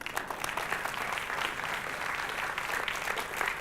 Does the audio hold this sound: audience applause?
yes